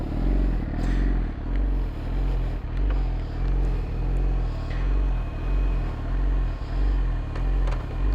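A 2017 Yamaha R6 with an Akrapovic exhaust idles and pulls away, its steady rumbling engine close and loud with rhythmic surges and some wind buffeting, no voices.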